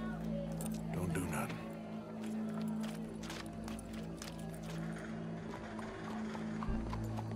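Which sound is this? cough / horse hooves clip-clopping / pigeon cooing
horse hooves clip-clopping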